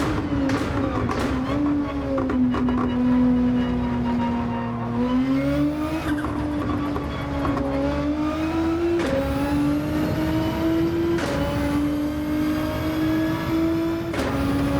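A race car in Gran Turismo 7 drives through turns, its engine droning loudly and steadily with pitch rising and dipping as the throttle is fed in, while tires squeal repeatedly through corners.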